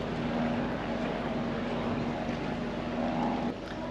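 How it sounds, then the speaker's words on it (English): An aircraft passes overhead during an anniversary gathering for pirate radio, a steady broad engine drone with a faint tonal hum, fairly distant and continuous, dropping slightly near the end. "there's a plane going over"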